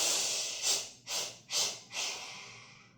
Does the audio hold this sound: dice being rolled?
no